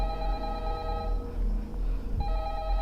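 A telephone rings in the horror game Five Nights at Candy's 2, a steady electronic ring that cuts out briefly and resumes, loud over low background hum, with no talk.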